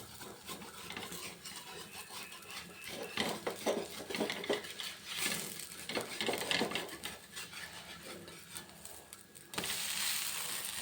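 A dosa cooking in wood-pressed groundnut oil on a pan, with utensil clinks and scraping as it is turned over, a steady soft sizzle underneath and a louder burst of frying near the end.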